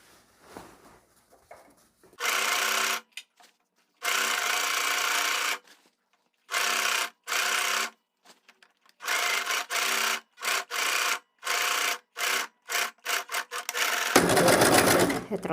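A sewing machine stitching a skirt waistband seam runs in repeated short bursts separated by silences, close and fairly loud, the runs getting shorter and quicker toward the end.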